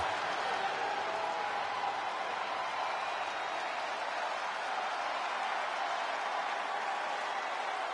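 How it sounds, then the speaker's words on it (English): A wrestling arena crowd cheering in the WWE 2K25 video game, a dense, steady roar of applause and shouting that holds at an even level throughout. "Seth Rollins is here and the crowd is freaking out."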